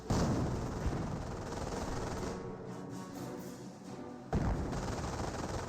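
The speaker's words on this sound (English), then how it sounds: "I hear MG42 somewhere." Battle soundscape from Company of Heroes with steady gunfire and bursts throughout, consistent with a German MG42 machine gun firing somewhere off in the distance amid other combat noise, with a louder burst near the end.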